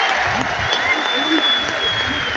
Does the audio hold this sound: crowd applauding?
yes